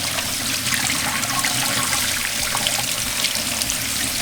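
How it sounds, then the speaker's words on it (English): Cold tap water runs steadily over shrimp in a kitchen, a close, continuous splashing rush without a break. "just make sure that you're rinsing them with cold water"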